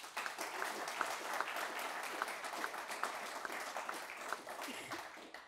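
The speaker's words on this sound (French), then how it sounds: "Et je vous propose de l'applaudir parce qu'elle le mérite." Applause from an audience at a formal French government ceremony for a report handover, steady dense clapping sustained throughout at moderate distance with no voices over it.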